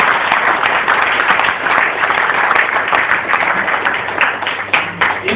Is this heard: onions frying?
no